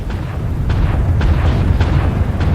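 Missile strikes bursting against a mech in MechWarrior Online, several loud booming impacts landing in an uneven rhythm over a dense, rumbling low-end din.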